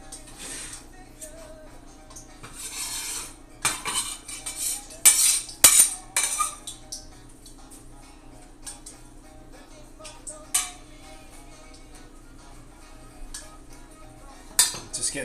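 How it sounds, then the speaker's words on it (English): Pan and metal cutlery handled in a home kitchen while setting up to cook on the range, giving scattered clinks and clatters in bursts, loudest in the first seven seconds, then sparse clinks over a quiet background. "Just getting this pan set up here so we can switch over to the range"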